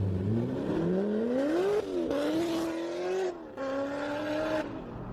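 A car without an aftermarket cam revs hard at a car meet, its loud engine note climbing in repeated rising sweeps with brief dips between pulls, close and dominant with no talk over it.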